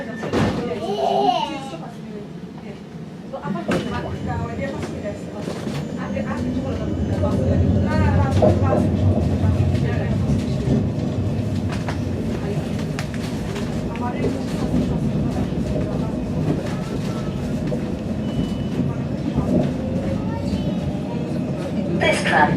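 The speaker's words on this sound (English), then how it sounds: "This tram is about to depart." A tram in Birmingham rumbles and hums as it pulls away, the low drone building after a few seconds, with faint voices and a chime-like tone early on.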